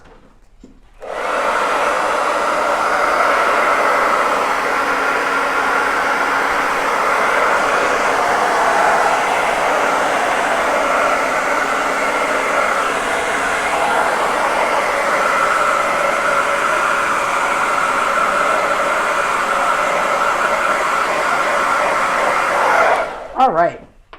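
A hair dryer blows steadily for over twenty seconds at close range, drying a homemade Christmas saw decoration, a loud even whoosh that switches on at the start and cuts off at the end.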